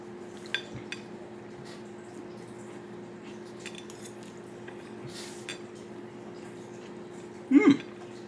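Dishes and cutlery clink faintly while casserole is plated, with a few sparse, brief knocks and one louder clatter near the end over a steady low hum.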